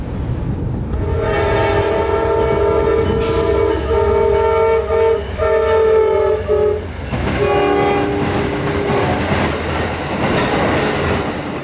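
An Amtrak passenger train passes through Plant City, Florida, sounding loud, sustained multi-tone horn blasts over a steady rolling rumble of wheels on rails, close and continuous throughout.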